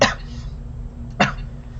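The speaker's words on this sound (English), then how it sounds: "Here I was fake coughing though" Two short, deliberate fake coughs spaced about a second apart, close and fairly loud over a low steady hum, with quiet gaps between them.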